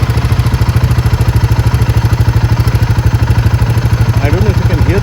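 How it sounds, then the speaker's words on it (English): Royal Enfield Himalayan 452 engine idling at standstill, a steady close mechanical rumble with rapid regular ticking tappet clatter throughout, plus a faint higher whine near the end. "It sounds like a tappet noise"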